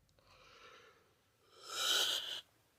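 A person yawns close by, a long breathy exhale swelling into a louder open-mouthed sigh that cuts off sharply, heard alone without talk.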